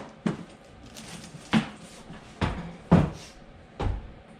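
Plastic parts of a Thetford 365 portable cassette toilet being connected, five separate clicks and knocks spaced about a second apart, close and fairly crisp over a quiet room.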